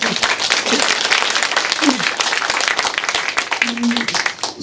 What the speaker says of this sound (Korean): 박수 한번 받으셔야 될 것 같아요